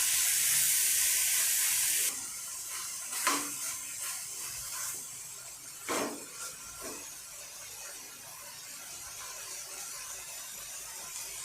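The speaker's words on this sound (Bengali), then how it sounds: "এইভাবে নাড়াচাড়া করে খুব সুন্দর করে ভেজে নিন।" Chicken frying in a pan for a home-style Bengali chicken fry, with a loud steady sizzle for the first two seconds, then a softer crackle broken by a few sharp scrapes and knocks as the pieces are stirred.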